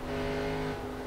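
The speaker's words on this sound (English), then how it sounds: "You can hear him really breathe that throttle on the corner exit" A NASCAR stock car at Bristol with the driver easing onto the throttle on corner exit: a steady, moderately loud engine drone holding a near-constant pitch for about a second.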